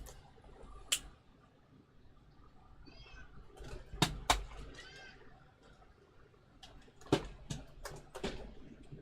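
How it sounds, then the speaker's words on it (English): A male house cat meows and yowls at a door in short, loud bursts, heard indoors over the low hum of a video game. "my cat has decided that he wants to sit there and yell at the door"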